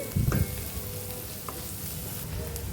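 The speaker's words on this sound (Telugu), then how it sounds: "ఇప్పుడు ఇందులో కొద్దిగా సాల్ట్ అలాగే కొద్దిగా పసుపు వీటిని ఒకసారి వేయించుకుందామండి" Garlic sizzles in hot oil with a pinch of salt and turmeric for a spring onion and tomato curry. A brief louder stir comes first, then a steady, close frying hiss.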